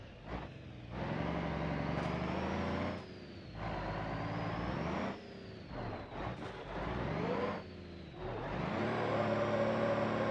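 Truck engine revving in the driving simulator BeamNG.Drive, loud sustained roars that rise and fall in pitch over several throttle bursts with short pauses between, close and alone without talking.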